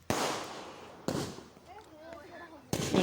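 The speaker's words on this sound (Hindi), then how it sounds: "बाहर पटाखे शॉट्स जलाने हैं" Diwali fireworks and firecrackers go off outdoors in three loud, sharp bursts, each trailing into a crackling decay, with faint voices in the gaps between blasts.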